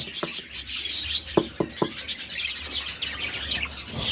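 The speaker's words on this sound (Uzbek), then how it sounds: "Aytayam, nemis qushlarimiz bor." German birds kept in a home enclosure chirp and tweet in quick, bright repeated calls, fairly close, with a few sharper clicks and soft rustling beneath.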